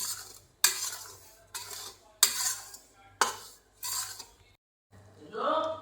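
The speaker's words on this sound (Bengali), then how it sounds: "দিয়ে এখন ভেজে নিচ্ছে আর কি সুজিটা, হালকা ভেজে নিচ্ছে আর কি" Semolina lightly dry-roasting in a pan while a spoon scrapes it round, four or five sharp rhythmic scraping strokes at close range with brief pauses between, a faint sizzle underneath and no talk.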